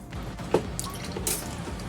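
Raw apple cider vinegar poured into a homemade mushroom burger marinade with olive oil, a brief close liquid trickle and splash, a few drips, lasting under two seconds.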